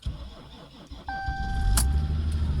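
A Ram EcoDiesel truck engine cold-starting at -31F, cranking into a rising low rumble that builds and keeps running, with a sharp chime-like tone and a brief high burst partway through.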